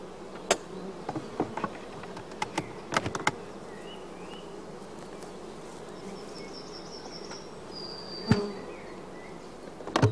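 Honeybees around a closed-up hive give a faint, steady buzz, with occasional sharp clicks and knocks standing out nearby.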